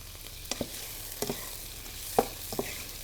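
A bulgur kebab mixture sizzles quietly in a frying pan while a utensil stirs it, making a few short scraping knocks spread over a few seconds.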